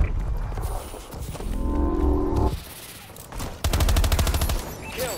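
XS-1 Vulcan killstreak fire in Advanced Warfare, loud bursts of rapid sustained gunfire broken by quieter gaps with footsteps.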